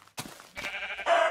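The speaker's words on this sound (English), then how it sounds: "the only visitors we got coming to the house right now are the sheep" A sheep in the Minecraft video game bleats twice in quick succession, short nasal cries that stand out clearly against an otherwise quiet background.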